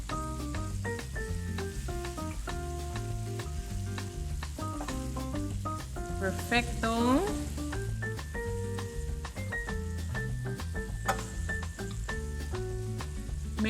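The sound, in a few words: shrimp and green onion sizzling in a pan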